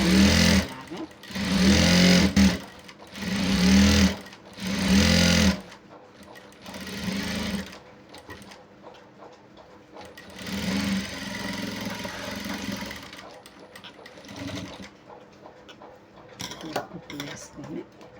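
A sewing machine stitches pant fabric in several loud, rhythmic bursts separated by short pauses, then runs steadier and softer. A voice talks between and over the stitching.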